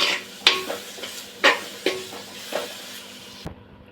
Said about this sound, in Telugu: ఉల్లిపాయలు, పచ్చిమిర్చి కొంచెం వేగాయండి.